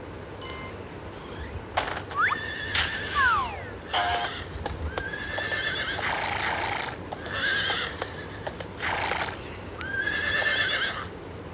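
Several horse whinnies and neighs, high and wavering, repeated across the clip over faint background noise and occasional clopping.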